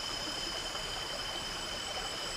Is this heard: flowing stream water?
yes